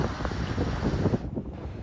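Strong ocean wind buffets the microphone on Likas Island, a loud, continuous, gusty rumble with the sea behind it.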